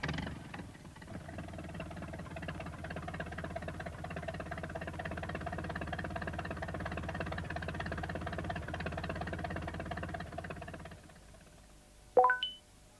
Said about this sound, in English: Peter Fogg brought the tractor to tow Pat out.